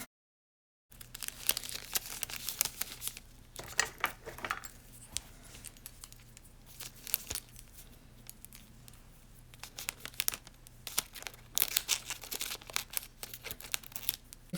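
Nail transfer foil crinkles and rustles close by as it is handled and cut with scissors, a string of irregular light crackles, snips and faint metallic taps with no talking.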